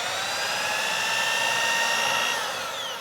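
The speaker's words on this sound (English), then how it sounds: "With the remaining ones, I have to drill my own pilot holes." A power drill boring pilot holes into a wooden futon frame, with a steady high whine running continuously and close up throughout.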